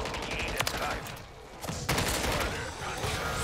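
Rapid gunfire from a wonder weapon blasts at zombies in Modern Warfare 3 Zombies, a few sharp loud cracks standing out above a continuous busy game mix.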